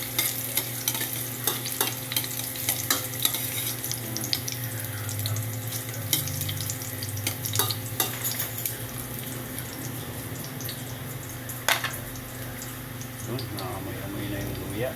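Ginger sautéing in a pan until brown for chicken tinola sizzles steadily and close, with frequent sharp clicks of stirring and a low hum beneath.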